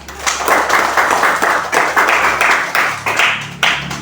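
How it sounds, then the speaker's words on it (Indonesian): Classmates in a classroom clap hard and close for a student, a dense burst of hand claps with a loosely pulsing rhythm. "Kasih tepuk tangan yang meriah untuk kawannya"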